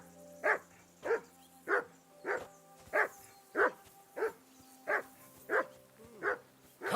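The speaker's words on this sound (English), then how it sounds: "Do something with that mutt, Henry. It's doing my head in. Call that dog, Henry." A dog in the medieval game Kingdom Come: Deliverance II barks repeatedly in a steady rhythm, about a dozen sharp, close barks over quiet ambient background.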